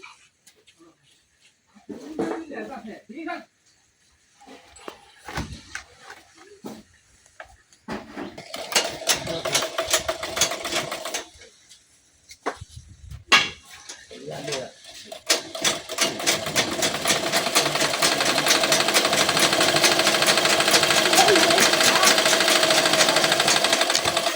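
A sewing machine stitches a sleeve onto a garment in a village home, starting in short bursts with pauses, then running steadily and loudly in a continuous whir for the last several seconds.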